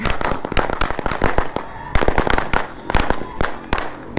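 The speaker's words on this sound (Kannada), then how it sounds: "ಪಟಾಕಿ ಪಟಾಕಿ ಹಚ್ಚಿ ವೆಲ್ಕಮ್ ಮಾಡ್ತಾ ಇದ್ದಾರೆ" Firecrackers going off in Davanagere to welcome a 14-foot Ganesh idol at its grand entry, a loud, close, rapid string of sharp bangs and pops with uneven gaps, continuing throughout.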